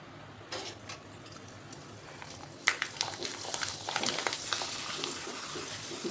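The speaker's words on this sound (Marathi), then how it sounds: "तर तळून दाखवते. तेल आता छान तापलेले आहे." Papads made from jowar (sorghum) flour frying in hot oil give a soft, steady sizzle and bubbling that swells after a few seconds into a busier crackle.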